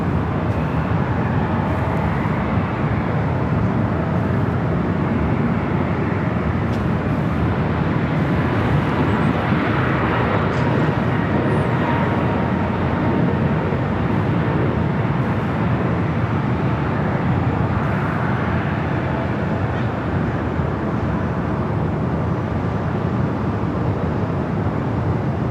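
Asiana airliner taxiing at LAX toward the Tom Bradley terminal, a continuous low rumbling engine drone with broadband hiss, steady and moderately loud across the whole stretch, no voices.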